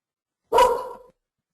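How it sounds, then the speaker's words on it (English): A single dog bark, a short loud burst lasting about half a second, heard on its own against silence. "Oh, there's the dog."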